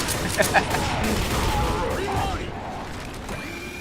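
Bursts of Left 4 Dead gunfire and booms crackle over a busy, dense mix of game effects, with a couple of louder shots standing out early on.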